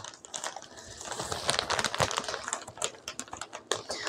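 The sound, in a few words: unpacking a product package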